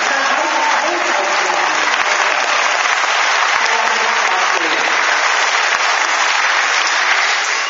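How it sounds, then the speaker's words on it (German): Applause from a crowd at an anime convention in Kassel, a continuous dense wash of clapping at steady loudness with faint voices beneath it. "ein Applaus für die unsere kleine Staffel hier"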